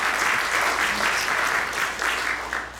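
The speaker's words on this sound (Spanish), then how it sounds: "Aplausos." A crowd at an academic incorporation ceremony of the Peruvian Academy of Law applauds, a dense, steady clapping that fills the room throughout.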